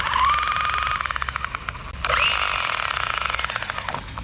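An Arrma Granite RC monster truck whines loudly at high revs with a rapid rattling, buzzing texture from a gear or spur rubbing, the pitch climbing then surging again midway.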